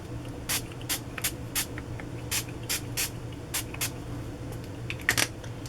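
Short hissing bursts of Heidi Swapp Color Shine ink in Sweet Cherry from a pump sprayer, about a dozen quick sprays in an uneven rhythm, close and fairly soft over a low background hum.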